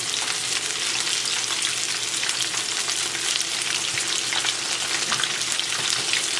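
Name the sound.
oyster mushrooms frying in oil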